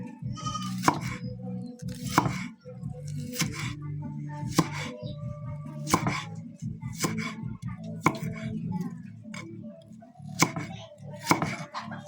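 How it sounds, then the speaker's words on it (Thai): A knife chops shallots on a cutting board, a series of sharp, irregular thuds and cracks repeating every second or so, close up, with faint kitchen handling sounds between strokes. "เอาหอมแดงมาหั่น"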